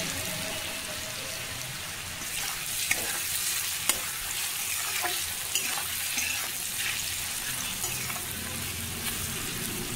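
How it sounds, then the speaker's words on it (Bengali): Potatoes with salt and turmeric frying in a pan, a constant loud sizzle like heavy rain, with frequent spatula scrapes and occasional sharp taps as they are stirred over and over. "বারবার নেড়ে দিচ্ছি, পুড়ে যাতে না যায়, তার জন্যে বারবার নেড়ে করে ভেজে নিচ্ছি"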